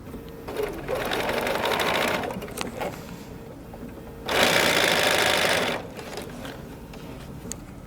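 A sewing machine stitches a short, narrow quilt strip for a block, running in two bursts of rapid, even mechanical whirring. The second burst is louder and steadier, with quiet pauses between them.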